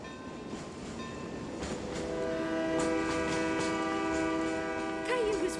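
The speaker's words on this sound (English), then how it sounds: "I hear the train." Cartoon steam train with its horn sounding over a rumbling approach, the horn entering around two seconds and holding as a loud sustained chord while the rolling wheel noise grows closer.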